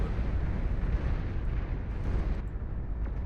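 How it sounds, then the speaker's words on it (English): A Juggernaut unit blows up under heat ray cannon fire in Beyond All Reason: a dense, rumbling explosion roar that holds steady and loud throughout without a break. "it destroys the Juggernaut into nuclear overload"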